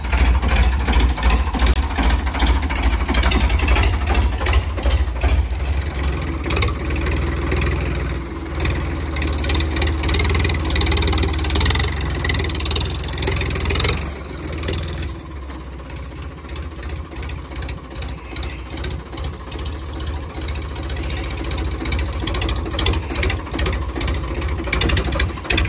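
A 1995-model vehicle engine idles near a farm field, a steady, rapid mechanical chugging that stays close and fairly loud for the whole stretch, with no talking.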